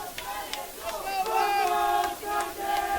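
Boisterous crowd noise at a high school girls' state soccer quarterfinal, with a steady wash of cheering and shouting voices and some whistle-like tones, moderately loud and continuous throughout.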